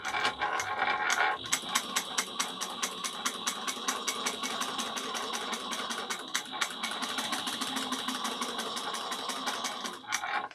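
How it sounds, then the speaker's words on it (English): A sewing machine top stitches a small bowler bag at 1/8 inch, running in a steady, fast mechanical chatter of rapid needle strokes close by for nearly the whole stretch before stopping near the end. "I'm going to top stitch at 1/8 of an inch."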